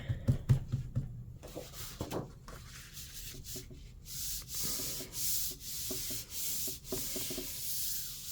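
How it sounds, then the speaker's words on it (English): Paper is rubbed over paint-covered lace on a Gelli plate, starting with a few sharp taps and scrapes, then settling into a rhythmic close-up swishing rub repeated many times. "And I'm going to burnish"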